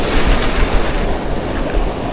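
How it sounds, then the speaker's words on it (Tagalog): Large post-typhoon ocean waves break on a shallow shore in a steady, loud, broad surf roar with wind buffeting the microphone, with no voices present. "malalaki pa yung mga alon"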